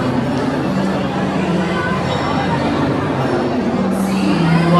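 A crowd at Prem Mandir temple in Vrindavan at night, dense steady babble of many voices with occasional shouts, loud and all around.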